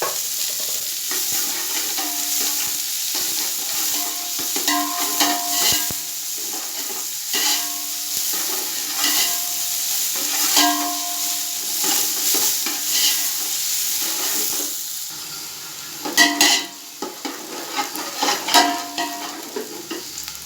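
Two medium onions fry in one and a half tablespoons of ghee in a pot for beef yakhni pulao, a constant close sizzle broken by repeated stirring scrapes and clatters, busiest near the end.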